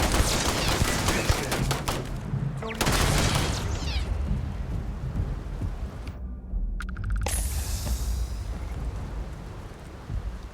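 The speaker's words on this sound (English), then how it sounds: "Oh, it's a turret." A turret in Starfield fires sustained, loud bursts of automatic gunfire that pause briefly then resume, broken by a short silent gap before heavy firing starts again.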